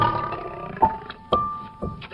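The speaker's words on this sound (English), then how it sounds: "Nothing matches the thrill of hearing a lion's roar echo across the plains." An African lion roars out on the Kenyan savannah plains: a series of deep, forceful grunting pulses that sound fairly close and are separated by brief gaps, with no talking.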